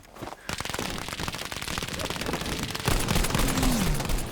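Rapid, loud gunfire from Battlefield V, including a Selbstlader 1916 rifle, with dense volleys of shots running throughout and a voice speaking over the shooting near the end.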